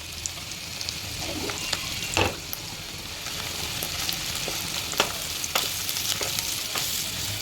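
Ground prawn paste hitting a hot pan, giving a continuous close sizzle with scattered crackles and pops and a louder stirring scrape about two seconds in, no voices over it.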